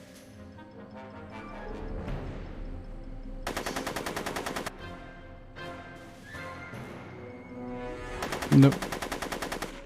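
Gunfire in the adventure video game Back to the Future: The Game, two bursts of rapid rattling automatic fire between stretches of background music, with one short spoken word.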